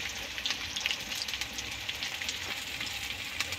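Masala spices frying in a wok for Bengali mutton curry, a quiet steady sizzle with scattered small pops and crackles, no voices.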